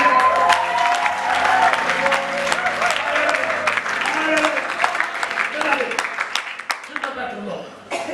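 A church congregation claps and cheers loudly and continuously, a dense wash of applause with scattered voices and exclamations throughout.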